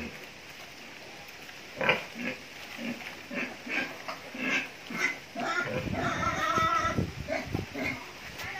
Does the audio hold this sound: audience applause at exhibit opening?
no